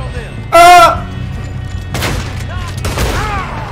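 Gunfire in the video game Red Dead Redemption 2 during a firefight: one loud, ringing shot followed by a couple of weaker cracks and echoing reports over a low background, with talking around it.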